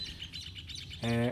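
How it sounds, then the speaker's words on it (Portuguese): Many small birds chirp and twitter in a village backyard, light and continuous in the background, before a voice cuts in at the very end. "Tá praticamente todos os passarinhos da vila cantando nesse momento."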